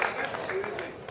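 Applause from a Hindi kavi sammelan poetry audience in Alot, a dense, steady patter of many hands clapping throughout with a voice carrying over it.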